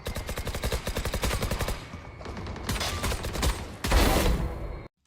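Automatic gunfire in a video game while the player shoots and strafes, rapid bursts of evenly spaced shots followed by louder, denser volleys that cut off abruptly, close and with no talking.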